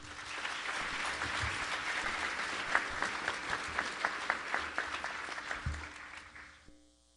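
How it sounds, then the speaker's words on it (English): An audience at a school honors ceremony gives sustained, dense applause with a few sharper nearby claps standing out, fading away toward the end. "One more applause."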